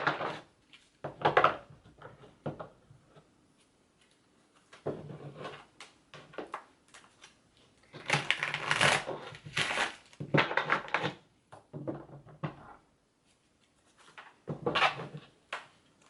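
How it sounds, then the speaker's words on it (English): Bursts of crisp papery riffling and soft slaps as tarot cards are shuffled, several short shuffles separated by pauses, close up with no talking. "try to shuffle again"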